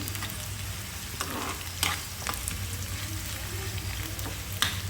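Chopped onion and shallots sauté in a frying pan, a steady close sizzle with a few sharp spatula clicks and scrapes breaking through.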